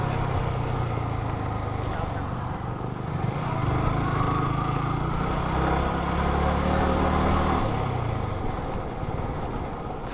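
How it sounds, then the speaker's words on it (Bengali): Yamaha FZ25 motorcycles ride near Camelia Lake in Sreemangal, their engines humming steadily at moderate distance over the whole stretch, with someone talking over the sound. "সবুজ ভাই তার FZ25 এবং রাজ ভাই তার FZ25 নিয়ে একটা কড়া কড়া কড়া রাইড দিচ্ছে"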